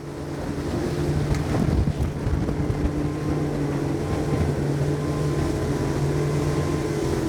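A Saxdor 270 GTO motorboat runs at about 30 knots through a turn, its steady engine drone mixed with rushing water and heavy wind buffeting on the microphone, with a brief splashing burst early on.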